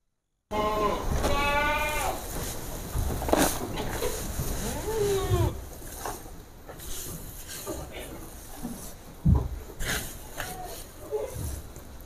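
Goats bleat in a farm pen, several wavering cries early on, then quieter scattered calls and rustling under a person talking.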